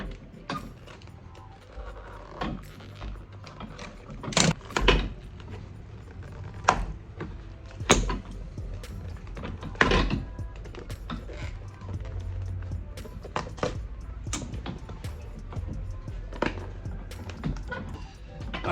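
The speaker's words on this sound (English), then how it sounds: "as I'm just taking this sole off" Cutting through stitching and prying a leather sole off a Russell & Bromley shoe, heard as irregular sharp snaps, clicks and tearing pulls over a low background hum.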